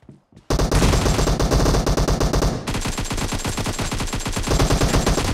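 Rapid automatic gunfire from the battle-royale video game PUBG, loud bursts of continuous shots after a brief quiet start, sustained and dense throughout.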